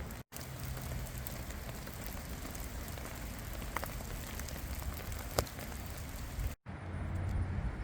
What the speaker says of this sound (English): after 12 straight hours of non-stop rain, moderate to heavy at times, a little windy